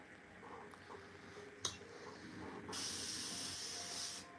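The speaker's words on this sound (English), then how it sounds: "let's continue spraying." An airbrush hisses steadily while spraying paint onto a Warhammer miniature, a faint continuous airy spray with a brief click and a brighter burst of hiss near the end.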